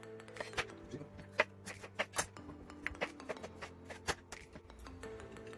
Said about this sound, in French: Là, je vais couper mes tomates